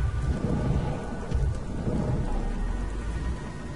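Heavy rain pours steadily while low thunder rumbles underneath, a dense, continuous video game storm in Beyond: Two Souls, without any voices.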